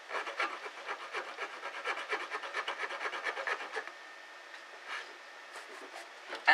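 Repeated rhythmic rasping strokes of a file smoothing the excess off sharp guitar fret ends, faint and close, quickening to a steady run then thinning to a few scattered strokes.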